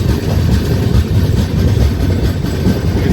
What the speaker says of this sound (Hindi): एक और ट्रेन यार्ड में आ रही है